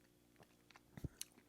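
Chewing sour pink lemonade candy belts, a few soft, close bites and crunchy chews in a brief quiet moment.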